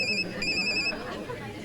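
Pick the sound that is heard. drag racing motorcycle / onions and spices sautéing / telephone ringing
telephone ringing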